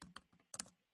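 Typing on a computer keyboard while entering a LaTeX equation, a handful of quiet, close key taps in two small clusters, soft and isolated with no talking.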